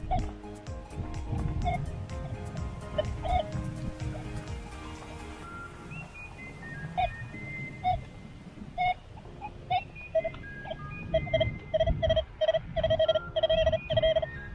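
Short electronic beeps from a metal detector ring out in a quick repeating pattern on a beach, following rustling digging sounds, close by.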